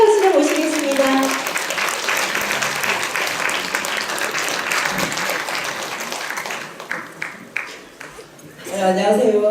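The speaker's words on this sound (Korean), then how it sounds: "큰 박수로 모시겠습니다" Audience applause greets a deputy district mayor walking up under stage lights at a Busan community service participant briefing and results event, a dense steady clapping crowd that thins into scattered claps before a voice speaks.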